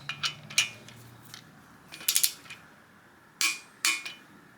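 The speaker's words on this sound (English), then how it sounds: "Take your torque wrench. It's a 14 millimeter set to 20 foot-pounds." A 14 mm torque wrench tightens bolts on a turbocharged Miata engine, giving several bursts of sharp ratcheting clicks separated by short pauses, close and fairly clear against a quiet background.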